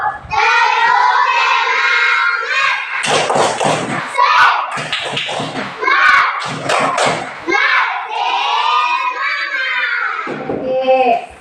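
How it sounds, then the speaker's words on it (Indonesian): A classroom of children performs the rhythmic 'tepuk semangat' clapping chant, sung voices mixed with bursts of sharp group claps and patterned thuds, close and loud. "ayo kita tepuk semangat dulu"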